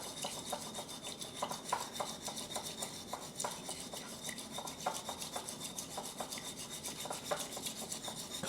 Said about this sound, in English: you take your whisk, and apparently you're meant to go in a M shape until it froths